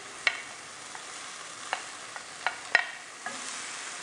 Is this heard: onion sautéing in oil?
yes